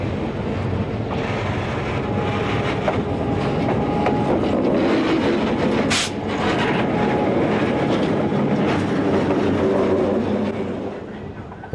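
A freight train switches cars at industries along a branch line out of Barrie, making a continuous loud rumble of rolling cars and wheel clatter, with a brief sharp screech partway through. No one speaks.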